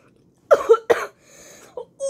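Two sharp coughs in quick succession, close and fairly loud, followed by a faint hum and a couple of brief low vocal sounds.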